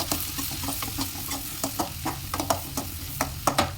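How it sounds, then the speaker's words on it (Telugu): Whole spices (a torn bay leaf, a small cinnamon stick, a few cloves and a little cumin) sizzle steadily in hot oil in a pan, with repeated scraping stirs rising above the frying. "ఇవి వేసుకొని బాగా వేయించేసుకోవాలి"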